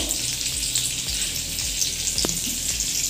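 Oil and a spoonful of butter sizzle loudly in a hot pan, a dense, steady hiss with faint crackles that holds unbroken throughout, with no voices over it.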